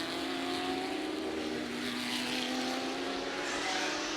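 A Ford GT40 race car engine roars steadily at the Goodwood Revival during an all-GT40 race, a loud, continuous drone with a sustained tone and crowd-free track ambience throughout.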